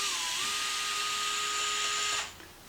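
A power driver whirs steadily for about two seconds as it loosens the small 2mm screw on the outer tie rod of a Traxxas Maxx RC truck, close and alone, then spins down.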